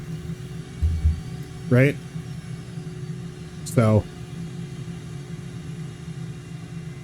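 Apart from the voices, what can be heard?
aircraft engine running in Microsoft Flight Simulator 2024, a video game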